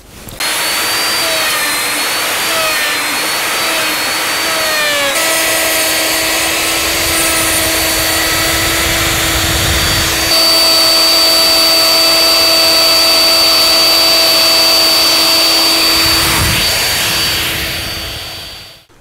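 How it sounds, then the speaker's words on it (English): A router plunges and cuts into a log being made into a beehive, a loud, close, continuous high whine with a steady droning tone, shifting in pitch and load as the bit bites deeper, then tapering at the end. "So you can see I've routed it with a router."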